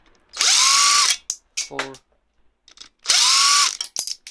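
A power tool spins off bolts on the engine of a 2006 Kia Sedona during a camshaft seal replacement, two loud whirring bursts of just under a second each with ratchet-like clicks between them and a brief spoken word.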